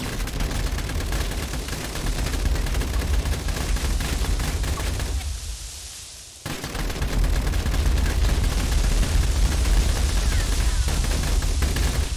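A PKM machine gun firing in Fallout 4 lets out loud, sustained automatic bursts with one brief drop-off in the middle, rattling on without pause.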